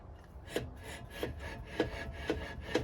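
A faint rhythmic scraping recurs about every half second, a brake pad rubbing against the spinning disc on an Audi A8 D4 4.2L FSI, over low background noise.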